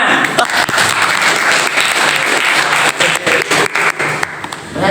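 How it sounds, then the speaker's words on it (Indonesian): A classroom audience claps loudly and continuously, dense rapid applause filling the whole moment with no speech over it. "Tepuk tangan."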